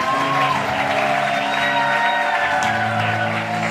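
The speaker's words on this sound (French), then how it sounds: "il y a quelqu'un qui acclame Dieu" A church audience cheering and applauding at a women leaders' gathering on peace in eastern DR Congo, a continuous loud wash of clapping and shouts with sustained tones running beneath.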